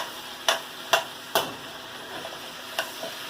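Onions frying in a pot while being stirred, a faint sizzle beneath several sharp spoon knocks against the pot at uneven intervals.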